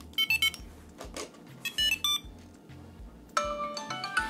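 A phone rings after a Tile tracker is tapped: short bursts of bright electronic ringtone notes repeat in a stuttering pattern, then a louder melodic chime sounds near the end, close and fairly clear.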